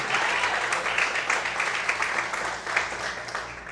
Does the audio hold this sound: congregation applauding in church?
yes